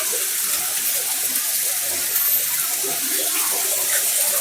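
Bath water gushes strongly from a tap or spout in a remote house, a steady broadband rush that fills the clip without pause, alone and fairly loud.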